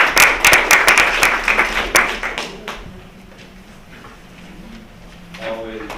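Applause from an audience at a community law school event, loud dense clapping for about two seconds that thins and fades into quiet room noise, with faint voices near the end.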